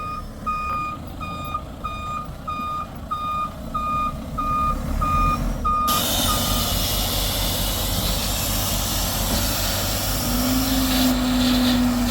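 A gravel truck sounds steady reversing beeps over its engine, then the load tips with a loud, sustained rushing roar of gravel pouring out, close by.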